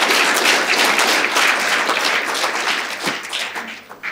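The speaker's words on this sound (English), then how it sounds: "I want you to give an applause to our panelists for the presentation." A crisis-response conference audience gives its panelists a full, sustained round of applause that stays dense and loud before tapering slightly at the end.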